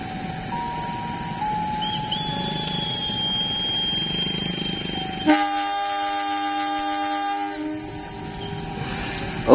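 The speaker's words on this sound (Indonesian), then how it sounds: "peluit sudah dibunyikan dan semboyan 35 juga sudah dibunyikan, guys. Tandanya akan segera berangkat" Joglosemarkerto passenger train departing Gundih station: a long whistle tone is heard first, then a loud, sustained horn blast for signal 35, followed by a final sharp burst at the end.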